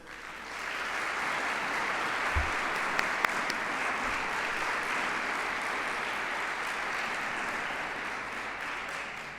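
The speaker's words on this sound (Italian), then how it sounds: "Farei loro un bel applauso." An audience at an Italian Christmas charity concert applauds a children's choir, steady even clapping that swells in and holds throughout, with a couple of brief knocks.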